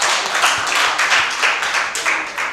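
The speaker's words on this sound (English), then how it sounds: "Really give them a big round of applause." A symposium audience gives a loud, sustained round of clapping, with individual claps audible inside a dense, steady wash of applause.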